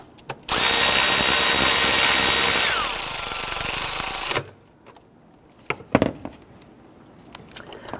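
A power tool runs in one steady burst for about four seconds, snugging down bolts on the intake manifold of a 2011-2015 Kia Sorento, then stops abruptly, leaving a few faint clicks and knocks.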